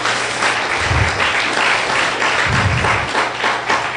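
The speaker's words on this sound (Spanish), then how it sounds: "Denle un fuerte aplauso al Señor Jesús" A church congregation applauds loudly and steadily during a sermon, many hands clapping together in a sustained burst with no one speaking.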